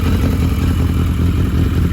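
A motorcycle engine, one of several older Yamaha Maxim, Honda Shadow or Sabre bikes, runs loud and close with a rough, continuous idling rumble and mechanical clatter, no voices over it.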